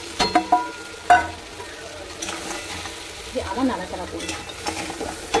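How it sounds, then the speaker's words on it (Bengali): Fried crab pieces are tipped into cooked-down masala in a pan and stirred, giving scraping stir strokes over a soft sizzle, with a few sharp clanks early on and a brief spoken word. "এই যে কাঁকড়াটা ভেজে রেখেছিলাম এটা দিয়ে দিই"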